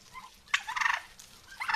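A turkey gobbles in a quick, rattling burst, loud and close, followed by the start of another gobble.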